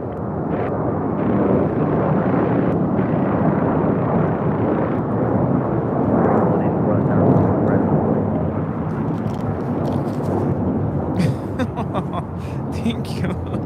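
An American Airlines A321 airliner takes off at LAX with a broad, sustained roar that fills the scene. People talk over the engine noise throughout.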